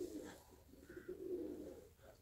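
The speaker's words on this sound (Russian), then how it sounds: "там голуби что-то дикарят" Domestic pigeons near a loft on an overcast day coo softly and continuously, a faint, low, rolling murmur at a distance with no talk.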